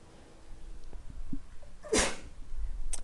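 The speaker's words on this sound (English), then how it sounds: "Sorry, I sneezed there." A single, sharp sneeze bursts out in a quiet room, loud and brief, with soft breathing and small noises before it.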